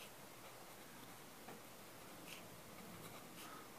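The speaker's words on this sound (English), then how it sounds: "let me write it very clearly here" A pen scratches across paper while a derivative formula is written out by hand, soft, close and continuous with no talking.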